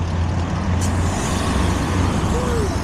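Valley Metro city bus idling nearby with a steady low engine rumble and a short hiss of air brakes releasing, street traffic noise throughout.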